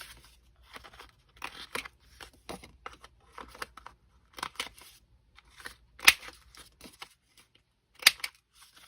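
Close, crisp scissor snips cut a piece of paper for a handmade bookmark. The cuts come in irregular clusters with brief pauses between them, and two sharper, louder snaps stand out, with no talking.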